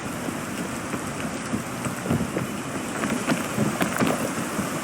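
Steady rain from a storm in the climbing video game Peak, a dense wash of droplets hissing across the whole clip, swelling slightly louder toward the end, with no voices.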